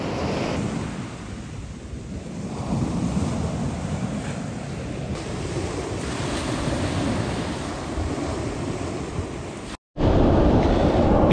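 Black Sea surf rolling onto a small pebble beach after a storm, steady roar of waves with strong wind buffeting the microphone, no voices, ending with a brief cut and a louder surge of water.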